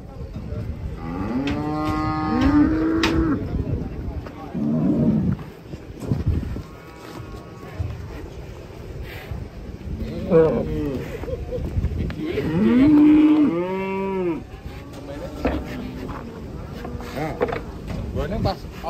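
Cattle being unloaded from a truck moo loudly and repeatedly, several long drawn-out calls close by, with people talking throughout and occasional clanking of the vehicle.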